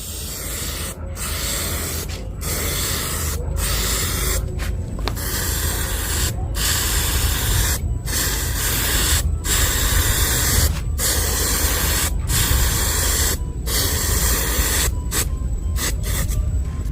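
Aerosol spray paint hissing onto wood in long continuous bursts, each several seconds, separated by brief gaps, loud and close with no voices.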